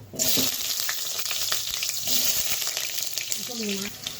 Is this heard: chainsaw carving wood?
no